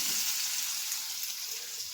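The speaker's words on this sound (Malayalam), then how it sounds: "ഞാൻ ഇനി കിഴങ്ങരിഞ്ഞ് ഇത് പൊരിക്കാനിടണം" Sliced potatoes frying in hot oil at home, a steady broad sizzle running continuously and fairly loud with no talk over it.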